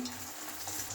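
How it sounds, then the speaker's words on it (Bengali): Spice paste of ginger-garlic, salt, turmeric and chili powder fries in a pan for an egg potato curry, a soft close sizzle with faint stirring, brief and steady. "এবার মশলা কষাইতেছে।"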